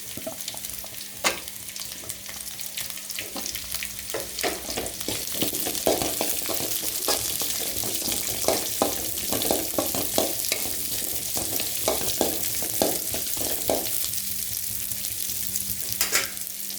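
Radish pieces sautéing in a pan for sambar, a steady close sizzle and crackle of frying with repeated scraping stirs of a spoon throughout.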